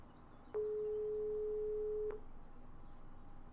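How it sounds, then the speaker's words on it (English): A single steady electronic phone tone in Broken Sword 5 as a call is placed, lasting about a second and a half before cutting off, clean and isolated over faint background ambience. "A phone. Let's call George."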